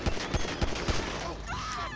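Rapid gunshots in GTA 5 crack in a quick string close by, followed by a brief whooshing electronic tone as the shots end.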